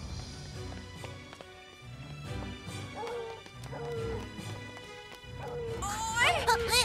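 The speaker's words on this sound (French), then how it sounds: "le même aboiement à chaque fois" A dog barks in the animated Cinderella film amid orchestral music and crashing commotion, with voices in the scene and a sharper, higher outburst near the end.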